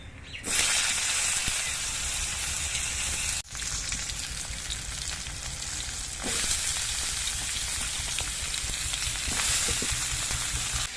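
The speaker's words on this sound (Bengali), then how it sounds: "এবার এর মধ্যে আমি সবজিগুলো দিয়ে দিচ্ছি" Loud, steady sizzling of vegetables frying in hot oil, with a brief dip partway through and occasional stirring clicks.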